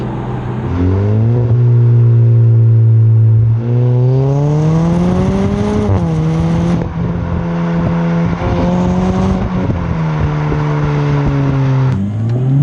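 A Jaguar XE accelerates at full throttle, its engine note climbing sharply through several gears with quick drops at each shift, loud and close from inside the car, with no voices.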